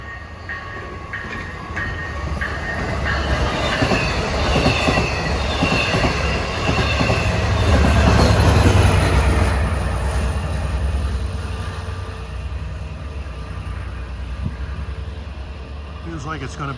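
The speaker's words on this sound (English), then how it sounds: "approaching westbound at 740 is train 509 from Oyster Bay to Hunters Point" A Long Island Rail Road commuter train from Oyster Bay passes westbound at New Hyde Park station, a loud rumble that builds and fades with wheel squeal and rail clatter, while a person talks over it.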